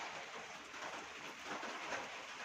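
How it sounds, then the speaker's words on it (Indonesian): Steady rain falls as an even, soft hiss with no distinct drops standing out, heard outdoors near a sheep pen. "Akhirnya hujan guys."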